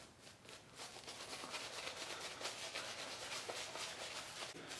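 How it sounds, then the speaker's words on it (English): TOBS Peppermint shaving cream being worked into a thick lather for a shave, a steady, soft, close rubbing and swishing that continues without pause, with no talking. "Let's lather up."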